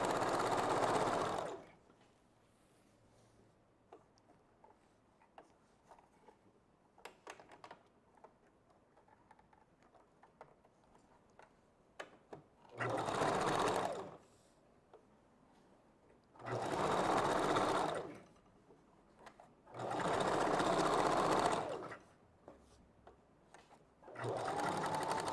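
A sewing machine stitches a wig in four distinct runs of rapid, steady mechanical whirring, the later ones longer, separated by quiet gaps with faint ticks and handling sounds.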